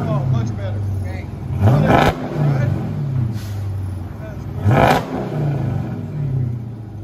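Loud revs from a 2013 Dodge Challenger SRT8, its 6.4L HEMI V8 breathing through Dynomax Race Bullet dual exhaust. Two sharp throttle blips rise from a rumbling idle, and voices can be heard in the background.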